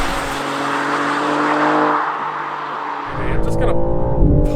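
A 550-horsepower BMW M4 CS pulls hard on a racetrack with a loud, sustained engine roar, then the tone drops and roughens as the car goes onto the brakes, with a brief squeal near the end.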